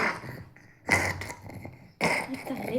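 A child coughs twice, two short harsh bursts about a second apart, close and fairly loud.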